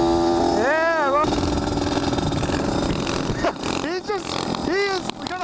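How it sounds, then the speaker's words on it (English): A small minibike engine revs hard and loud on a public road, its pitch climbing and falling in repeated surges under a steady buzzing idle. "he is gonna blow my engine up. Listen to it. It can't handle it."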